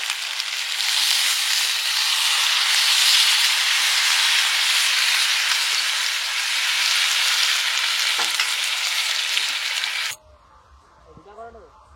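Water poured onto a cauliflower and potato curry bursts into a loud, sustained steaming hiss and sizzle at an outdoor picnic cook-up, running steadily for about ten seconds before cutting abruptly to a much quieter scene.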